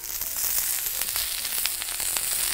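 Onions frying in a pan hiss in a dense, steady sizzle with faint crackles and a few soft scrapes as they are turned, close up with no voices.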